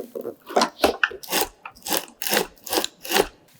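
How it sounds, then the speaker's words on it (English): Loose sand rattles and crunches inside a crashed GoPro Karma drone body as it is shaken, giving about eight rhythmic gritty bursts, close and fairly quiet, with no voices. "And I don't know if you can hear this, but there's a little bit of sand in there."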